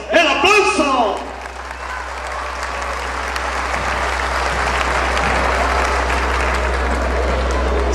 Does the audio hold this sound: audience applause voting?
yes